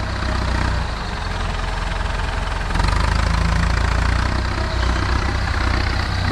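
Tractor model 6610 with an air-conditioned cab, its diesel engine running steadily and loud, pushing soil with an adjustable angled blade; a deep continuous rumble that strains a little louder partway through, with no talk.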